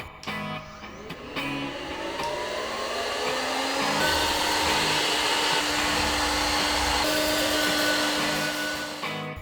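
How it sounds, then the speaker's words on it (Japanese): A vacuum cleaner runs over a moldy tatami mat, starting with bumps and clatter, then rising into a loud, steady whining roar that holds for several seconds before easing off. "乾いてきたところで掃除機をかけてみましょう。"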